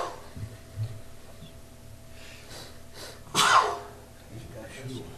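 A single sharp sneeze bursts out midway through a quiet council meeting room, faint background murmur around it, followed by brief talk.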